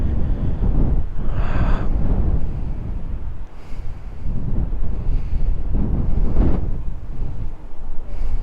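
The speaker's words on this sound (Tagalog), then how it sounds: "Lakas ng hangin, oh." Strong wind buffeting the microphone at a mountain view deck in Orani, Bataan, a loud continuous roar that rises and falls in gusts.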